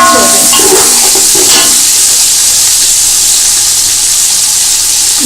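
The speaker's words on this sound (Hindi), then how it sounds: "फिर हम इसमें बंद गोभी जो हमने मीडियम साइज की काट के रखी हुई थी वो डालेंगे और चम्मच हिलाएंगे" Cabbage added to Chinese fried rice and stirred with a spoon gives a loud, steady sizzle and hiss, with a few scraping stirs early on.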